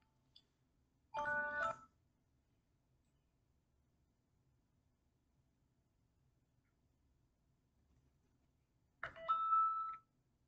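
A short electronic ringtone melody sounds twice, a brief burst near the start and another after a long quiet gap, fairly clear in a silent room.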